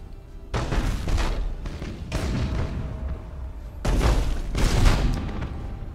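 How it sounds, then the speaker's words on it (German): Heavy booming macro cannons fire a broadside in a space battle in the video game Battlefleet Gothic: Armada, in rapid clusters, two loud bursts separated by a pause, each a rolling barrage of deep thuds and crackle. "Broadside macro cannons ready to fire on your order"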